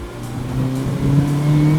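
A lumpy, aggressively cammed car engine revs steadily up close, its low rumble rising in pitch through the short burst with no voices over it.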